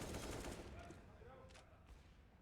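Rapid gunfire sprayed through smoke in a Counter-Strike match on the Train map, a dense burst of shots that fades over two seconds, faint and in the background.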